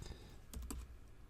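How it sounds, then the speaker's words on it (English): A few soft keystrokes on a computer keyboard as a command is typed into a command prompt, a quick cluster of two or three taps near the middle over a faint room hum, with no voices. "just type in Nslookup"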